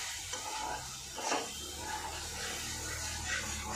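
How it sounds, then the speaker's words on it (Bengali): Spice masala with a little kasuri methi being fried and stirred in a pan for aloo bahar, giving a steady low sizzle with soft scraping stirs throughout, no voices. "আমি এবার এতে অল্প করে কসুরি মেথি দিয়ে দিলাম, দিয়ে আর একটু আমি কষা নেব।"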